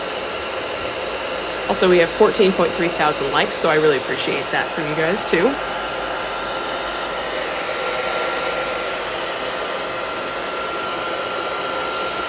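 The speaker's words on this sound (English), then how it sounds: "I do apologize for the hairdryer noise." A hair dryer drying watercolor paper blows steadily and fairly loudly throughout, with a person speaking over it for a few seconds near the start.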